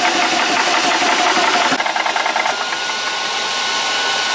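An air compressor with its cooling fans running while filling an Evanix Rainstorm air rifle, a loud, steady mechanical whir and hum that continues without a break.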